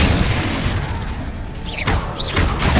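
Confringo blasting spell explosions in the Hogwarts Legacy video game, heard as loud, close booms and crashing bursts over a continuous low rumble, with a couple of sharp whooshing flares partway through.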